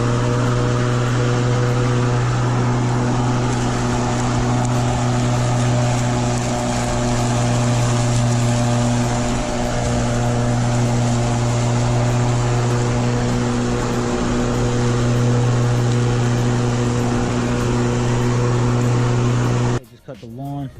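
Brand-new Greenworks 40V 16-inch cordless electric lawn mower cutting a lawn on its first pass, a loud steady motor hum with a strong low drone that holds evenly for twenty seconds before cutting off abruptly near the end.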